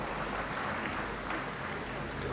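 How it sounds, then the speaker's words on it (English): A hall full of people applauds graduating students at a university congregation ceremony in the Great Hall. The clapping is loud, dense and steady, with no pauses. "I think you deserve a really good round of applause."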